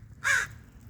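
A single crow caws once, loud and close, from a light pole on a Sunday morning walk, with faint ambient noise before and after.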